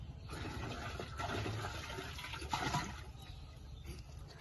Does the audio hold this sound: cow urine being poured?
yes